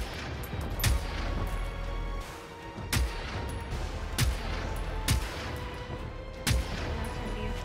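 Gunfire aimed at a tank in the video game Generation Zero, with sharp loud shots landing at irregular intervals over a constant rumbling battle backdrop.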